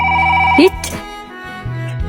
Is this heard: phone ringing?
yes